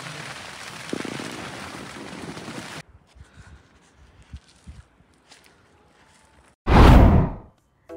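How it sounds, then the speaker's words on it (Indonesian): Steady rain falls on a mountain trail on Merbabu, a dense broadband hiss for the first few seconds, then it quiets to scattered drips and movement before a loud close rush of wind or rain near the end. "Masih hujan."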